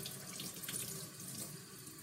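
Tap water runs steadily into a sink as soapy hands are rinsed under the stream, a continuous close splashing hiss with no voices.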